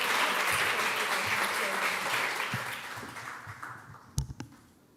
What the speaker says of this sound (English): Come on, Diane, please. Big applause